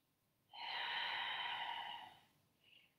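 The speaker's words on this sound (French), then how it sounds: "souffle par l'arrière-gorge, une respiration un peu bruyante" A long, noisy Pilates exhalation forced through the back of the throat with the mouth open, one steady breathy rush lasting about a second and a half, close and alone, followed by a faint softer breath.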